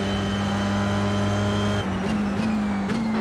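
A race car engine in a sim racing game holds a loud, steady, buzzing drone on the final lap, then drops in pitch and climbs again through a few quick gear changes, with no voices.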